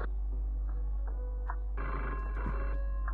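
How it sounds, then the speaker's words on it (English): A telephone rings indoors with short electronic ringtone bursts in a steady repeating pattern, moderately loud over a strong constant low hum. "Answer the fucking phone,"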